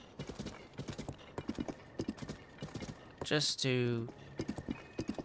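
Rhythmic clip-clop of horse hooves trotting quickly in the game The Legend of Zelda: Tears of the Kingdom, with a horse's whinny partway through and a brief spoken word over the steps.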